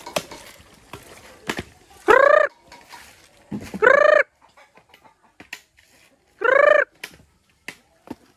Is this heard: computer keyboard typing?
no